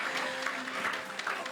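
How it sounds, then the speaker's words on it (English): Audience applause at a yarn fashion show, a brief, fairly faint patter of many hands clapping in a hall. "let's give her a round of applause"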